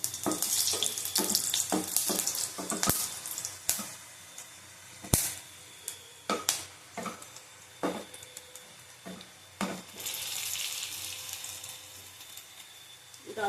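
A spoonful of cumin seeds and two dried red chillies sizzle in hot oil at the start of a Bengali masoor dal, crackling and popping close up in irregular bursts, with no talking.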